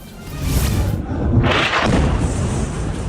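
Explosion of a building in Tyre, Lebanon, a heavy booming blast with rumbling debris and a sharp secondary burst, captured in news footage without speech.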